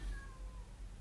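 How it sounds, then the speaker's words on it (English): A cat crying with one brief, drawn-out meow, close but faint, over a low background hum. "My cat is crying."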